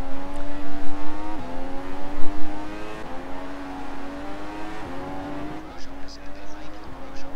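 Formula One race cars in the F1 2015 video game roar continuously at the Malaysia circuit, the engine pitch climbing steadily with sharp drops at each gear change, while a voice talks over it.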